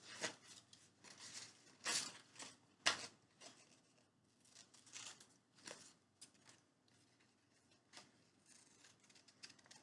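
Scissors snip around the inside of a paper uppercase letter G for a giraffe craft: a series of quiet, close, crisp cuts and rustles, with no speech.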